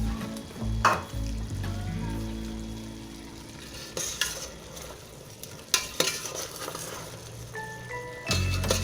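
Saba bananas with carrots and potatoes frying in a pan for chicken afritada, soft sizzling under clattering stirs and a few sharp utensil knocks against the pan, near and without talk.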